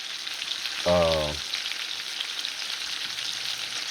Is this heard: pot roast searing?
yes